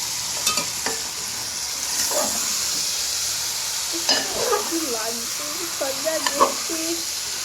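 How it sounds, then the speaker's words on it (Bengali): Meat being mixed by hand with spices and pungent mustard oil makes soft, wet squelching and stirring sounds over a steady steamy hiss, with scattered faint clicks and a few soft voice-like murmurs. "এবার এইটাকে দিয়ে ভালো করে কিন্তু মাংসটাকে মাখিয়ে নেবে"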